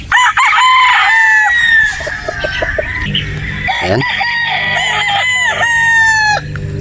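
A Possum-bloodline gamefowl rooster crows repeatedly, loud and close, its calls overlapping with clucking and other farmyard fowl, while someone says a word briefly.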